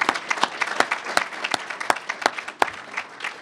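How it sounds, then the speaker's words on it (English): Luncheon audience applauds, a close, moderately loud burst of rapid hand claps lasting a few seconds with no talking over it. "So give him a round of applause."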